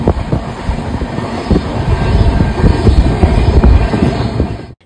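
A passenger train rolls along with a loud, steady rumble and clattering wheels on the track, continuous and close, fading out abruptly at the end.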